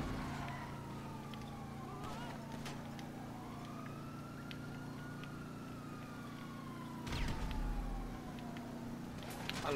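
Police sirens wail with slow, sweeping rises and falls over steady traffic and engine drone in Grand Theft Auto V on PS4, with the siren tones shifting as vehicles pass.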